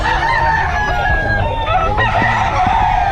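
Roosters crow over a busy, noisy farmyard, with hens clucking in a steady background clamor.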